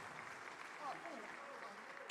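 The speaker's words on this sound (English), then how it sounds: "give me a wild and resounding round of applause" Steady audience clapping at the Afreximbank annual meetings, heard at a distance as a broad even wash of applause with a voice calling out briefly over it.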